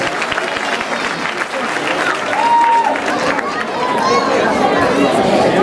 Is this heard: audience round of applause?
yes